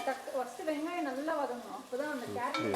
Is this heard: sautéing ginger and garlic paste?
yes